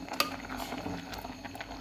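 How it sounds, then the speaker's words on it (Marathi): A pot of vegetable curry with moth bean dal bubbles at a steady boil, soft patters and pops close by with a faint clink near the start, no talking. "लगेच असे उकळे आलेले आहे मस्त भाजी शिजायला लागली"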